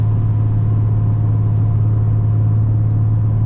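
An HKS turbocharged Nissan 350Z cruises at high speed, heard as a constant low engine drone and road rumble from inside the car, steady and even with no voices.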